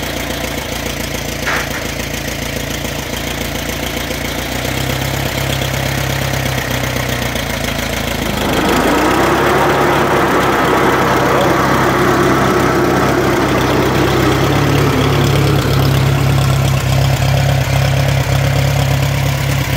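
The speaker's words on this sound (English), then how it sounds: "So we'll run the mower." An Allis-Chalmers CA tractor's engine idles steadily, then at about eight seconds the Wood L306 mower engages, adding a louder mechanical whir and rumble that continue to the end, close and constant.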